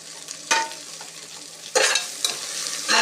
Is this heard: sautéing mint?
yes